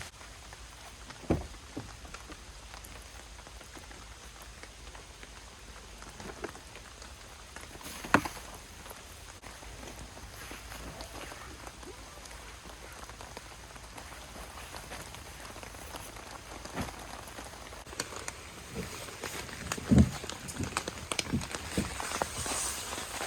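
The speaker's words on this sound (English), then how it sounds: "That is like an insane amount of rain." Heavy rain drums steadily on a tent during a storm while camping, a dense constant patter close around the listener, with a few louder thumps and brief bursts of movement along the way.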